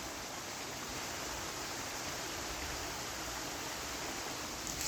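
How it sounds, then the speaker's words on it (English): Waterfall at the Levy Preserve in the Bahamas, a steady, loud broadband rush of falling water that holds constant and unbroken with no voices over it. "This is our waterfalls at the Levy Preserve."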